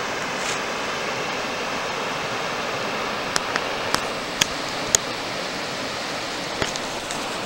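Small set of river rapids on the Mayo River in North Carolina, a steady broad rush of churning water with a few faint clicks, continuous and moderately near with no voices.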